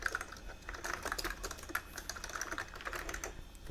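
Someone types quickly on an Amiga A2000 keyboard connected to an A1200 tower, giving a dense, even clatter of close key presses with no talking.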